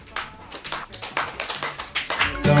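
Audience clapping in praise of Lala at a Yoruba storytelling podcast: a steady run of quick, crisp hand claps, roughly a dozen in close rhythm, near and fairly loud, with no talk over them.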